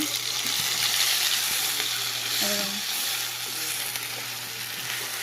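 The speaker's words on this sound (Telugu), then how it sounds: "అల్లం వెల్లుల్లి కొబ్బరి పేస్ట్ వేసుకుందాం ముందు ఆయిల్లో పచ్చి వాసన పోయేదాకా ఫ్రై చేసుకోవాలా" Ginger, garlic and coconut paste fries in hot oil with a steady, close sizzle and crackle, joined briefly by a light stirring scrape midway.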